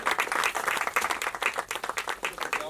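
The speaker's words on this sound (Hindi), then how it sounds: "म्यूजिक की तालियां है हमारी।" A crowd applauds loudly and continuously at a trailer launch event for the Hindi feature film The Lost Girl, a dense, steady clatter of many hands with no voices on top.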